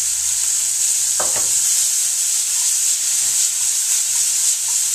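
Chicken pieces frying in an oiled pan, giving a steady loud sizzle that runs throughout with a brief clatter near the start as the meat goes in; no one speaks.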